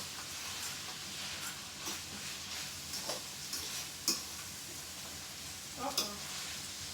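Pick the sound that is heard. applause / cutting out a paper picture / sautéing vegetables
sautéing vegetables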